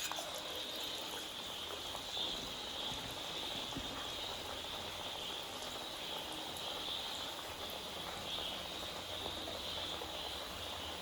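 Onion vada, the Kerala tea-shop ulli vada, deep-frying in hot oil, a steady close bubbling and crackling sizzle that runs unbroken without speech.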